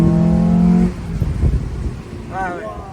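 Mazda MX-5 NBFL fitted with a sport exhaust, a steady engine drone that drops off as revs change, followed by rumbling mechanical noise and a brief rising engine sweep near the end, with voices talking in the cabin.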